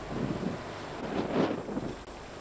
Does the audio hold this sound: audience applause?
no